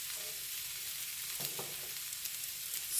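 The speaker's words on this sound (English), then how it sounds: "I'm only roasting some of the garlic to get that roasted garlic flavor or charred garlic flavor" Garlic cloves roasting and charring in a pan, a soft continuous sizzle with faint crackles and a light scrape, close by with no talking.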